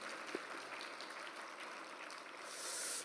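A church congregation applauds the children's department teachers during a Sunday evening worship service, a soft, even patter of clapping heard from a distance in a large room.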